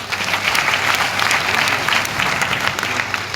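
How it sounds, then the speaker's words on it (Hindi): An audience at an anniversary celebration claps for the team in a loud, dense, steady burst that lasts the whole stretch, with no voices over it. "एक बार जोरदार तालियां भाई मेरी प्यारी टीम के लिए।"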